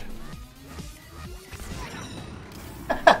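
Glass smashing in the Tiny Brains video game, a short sharp crash near the end of a quiet stretch with faint game sounds beforehand.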